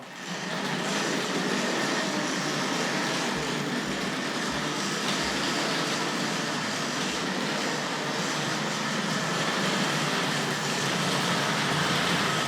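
A steady whirring rumble with a faint clicking rattle runs throughout, a Tri-ang Hornby Dublo model train rolling continuously along elevated track nearby, no voices.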